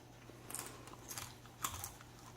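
Toasted salted pumpkin seeds being crunched, a few crisp bites and chewing crackles close to the mouth, faint and alone with no talk.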